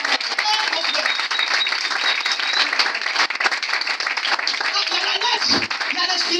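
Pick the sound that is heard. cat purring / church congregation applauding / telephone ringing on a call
church congregation applauding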